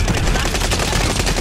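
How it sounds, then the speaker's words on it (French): Rapid, loud, close automatic gunfire from an enemy in Warzone Pacific, a dense continuous burst of shots with no pauses. "Il me tire dessus."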